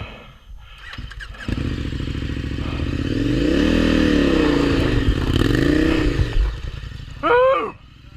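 KTM 1090 Adventure, a 550-pound motorcycle, climbing Arizona single track, its engine swelling to a loud, close roar and then easing off, with a brief sharp rev near the end.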